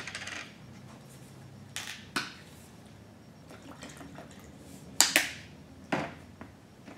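An Ultra Bond tool is dropped into a cleaning jar of rubbing alcohol, producing a few faint sharp clinks and small liquid splashes spaced apart, with a quiet room behind them.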